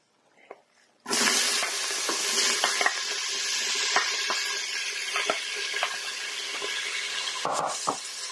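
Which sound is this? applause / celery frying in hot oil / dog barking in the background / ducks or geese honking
celery frying in hot oil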